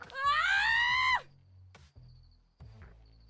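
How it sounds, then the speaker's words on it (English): A piercing, sustained scream in the Boyfriend Dungeon video game rings out loud for about a second, then fades into low background murmur with a few brief sounds. "A scream pierces the chatter."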